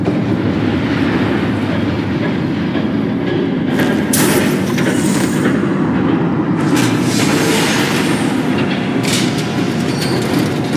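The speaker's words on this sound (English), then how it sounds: "There's a train coming." Train passing in the Batman: The Telltale Series video game, a loud, steady rumbling roar with rattling wheel clatter and brief high squeals, continuous throughout.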